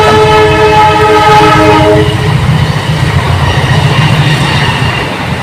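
A train passes close by with a loud, sustained horn blast over the first two seconds, followed by continuous rumbling and rattling of the cars, with no talk.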